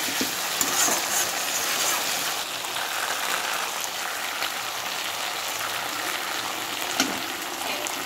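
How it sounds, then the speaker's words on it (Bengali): Fried rita fish going into a hot pan and being stirred in oil, producing a steady, close sizzle with faint scraping throughout and no talk. "এখন দিয়ে দিচ্ছি আমি ভাজা মাছগুলো। এখন মিনিট দিয়ে দেখি এটা মাছ ছেড়ে দেওয়ার পরে একটু নাড়াচাড়া করে নেব।"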